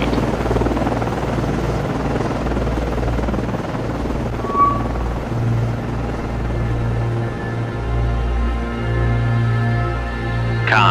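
In the naval game Cold Waters, a helicopter launches from the frigate USS Nicholas (FFG-47). A loud, continuous rotor drone with a deep thrum holds steady and swells slightly toward the end.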